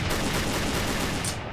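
Gunfire in the video game Project Zomboid: a dense, continuous burst of loud shots that blur together into sustained noise.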